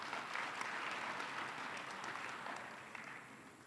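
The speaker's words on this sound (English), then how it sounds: "I want you to give them a round of applause," Delegates applauding at a teachers' union congress, dense sustained clapping from a large crowd that gradually tapers off toward the end.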